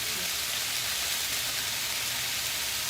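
Chicken wings searing in a cast iron pan for garlic parmesan wings, a steady, even hiss of sizzling fat with no pauses, moderately loud and close.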